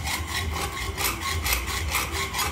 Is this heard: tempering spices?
no